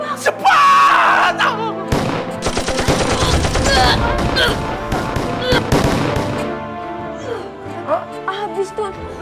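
Rapid bursts of stage gunfire in a Betawi lenong theatre play, loud and dense over several seconds, mixed with shouting voices and music, with sharp cracks continuing under the chaotic scene.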